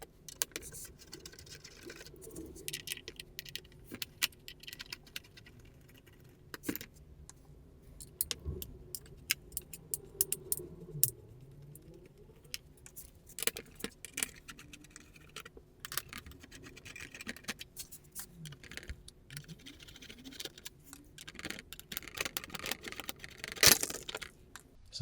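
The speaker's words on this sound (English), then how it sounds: "remove all the screws" Screws being taken out of the fairing of a 1999 Suzuki GSX-R 600 barn-find sport bike, with sporadic metallic clicks, taps and rattles of tools and fasteners spread over a quiet background.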